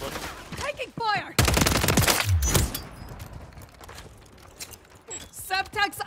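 Bursts of gunfire crackle in a Call of Duty battle royale match, sharp rapid shots and breaking impacts scattered among voices calling out.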